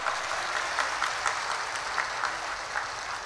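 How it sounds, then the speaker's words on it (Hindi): Steady audience applause as a welcome at a gathering in Gorakhpur, a continuous even wash of clapping heard fairly faint and without speech. "एक बार तहे दिल से जोरदार तालियों से स्वागत होना चाहिए"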